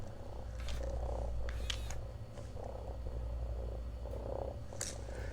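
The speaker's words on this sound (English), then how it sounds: "She purrs. Can you hear her?" A low, steady purring rumble from a robotic toy cat runs throughout, quiet and close, with faint soft clicks and rustles now and then.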